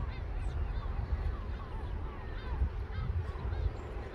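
Geese or similar waterbirds honk repeatedly at a morning harbor in Al Hoceima, Morocco, their calls moderately distant over steady low wind and water rumble, with no talk.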